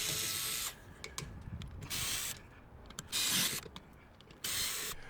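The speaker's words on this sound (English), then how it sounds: "you just unscrew the 4 screws that hold the blank in" A T25 Torx bit, likely on a power driver, backs out the four screws holding a trailer hitch socket blank on an ID.Buzz, giving several separate bursts of close whirring and ratcheting between quiet gaps.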